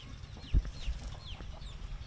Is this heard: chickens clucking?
yes